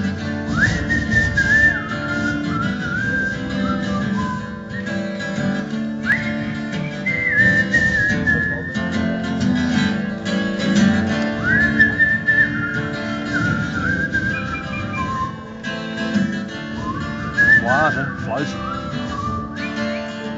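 Someone whistles a melody in repeated rising phrases, fairly close and clear, with a low murmur of background sound beneath.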